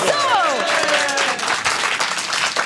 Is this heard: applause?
yes